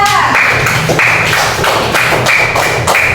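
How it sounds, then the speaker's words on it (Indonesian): Elementary school classmates clap for a student's drawing of a taro plant, a close, loud burst of rhythmic group clapping with sharp repeated strokes. "tepuk tangan dulu untuk Pianda"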